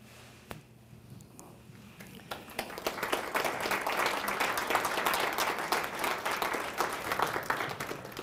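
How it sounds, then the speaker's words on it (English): Audience at a storytelling performance bursting into applause after a quieter opening moment, the clapping swelling quickly and holding strong and dense to the end. "Actually, it's not a story you have to applaud"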